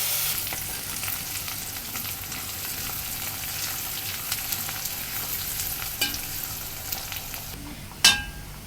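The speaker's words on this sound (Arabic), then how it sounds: "اما البصله تتحمر ونحط من شويه الميه" Onion frying in a pan for onion rice, a steady loud sizzle running throughout with occasional stirring scrapes and a sharp clatter near the end.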